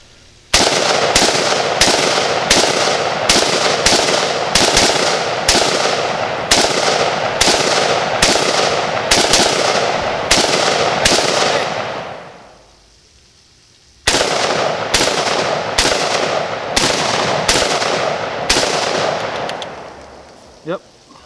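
Zastava ZPAP M70 AK-pattern rifle fired in a rapid string of loud, sharp shots, roughly evenly spaced, then a brief pause before another quick series; close and dominant with no talk over it.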